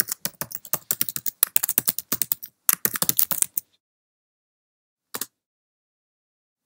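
Typing on a Mac computer keyboard, a fast run of close, crisp key clicks for about three and a half seconds with a short pause, then silence broken by one brief tap late on.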